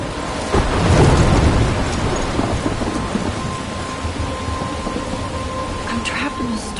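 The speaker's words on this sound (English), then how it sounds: "I'm trapped in a storm?" A thunderstorm near a lighthouse, with heavy rain pouring steadily and a deep roll of thunder swelling early on before fading into the constant downpour.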